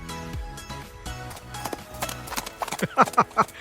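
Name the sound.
voice imitating horse hooves clip-clop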